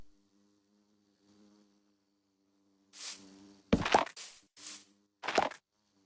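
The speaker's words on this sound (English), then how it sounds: "Oh, I've got bees." Minecraft bees buzz near a bee's nest, with faint humming at first and then several close, loud buzzing bursts coming in quick succession.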